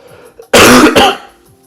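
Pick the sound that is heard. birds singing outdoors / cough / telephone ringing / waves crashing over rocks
cough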